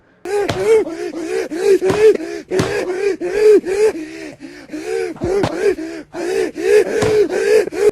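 A voice imitates loud, rapid gasping inhales, repeated in a quick, steady rhythm with a few brief breaks, close to the microphone.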